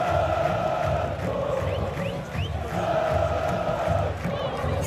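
Football crowd at a Santos vs Corinthians match roars and chants from the stands, a broad continuous wash of voices with swelling cheers, heard from within the stadium.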